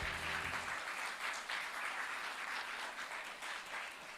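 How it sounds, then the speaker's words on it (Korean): Sustained audience applause at a forum session on peace and coexistence for the global Korean community, a dense even wash of clapping that fills the whole stretch without pause. "다시 한번 큰 박수 부탁드립니다"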